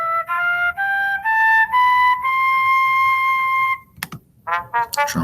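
A synthesized flute in a web music app plays a rising sequence of clean sustained notes, each stepping higher before a long held tone, followed by a few short clicks and brief tonal bursts.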